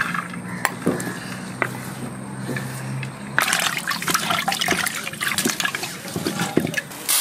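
Masoor lentils being rinsed in water in a village kitchen, with sloshing and trickling that turns busier and more splashy partway through, close and moderately loud, no voices.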